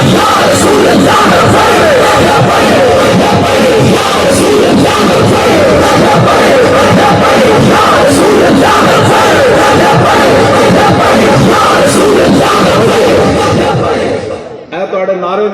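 A large crowd at a religious gathering in Dharme Wala, Depalpur chants slogans in loud, rhythmic unison, a dense and forceful roar of many voices that holds for most of the stretch before dropping off sharply at the end.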